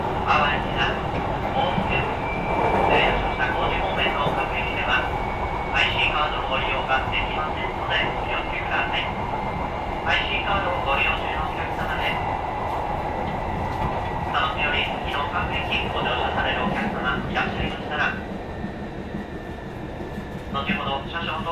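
A JR Shikoku 7200 series train on the Rapid Sunport service between Takamatsu and Kan'onji, recorded binaurally from inside: steady rolling rumble with rhythmic rail clatter and squeals throughout.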